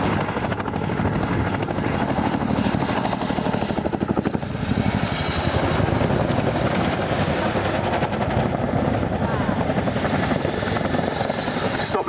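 An RAF Chinook twin-rotor helicopter flares to a rapid stop and settles into a hover at an air display, a loud, continuous beating rotor roar with a high turbine whine that stays steady and close throughout.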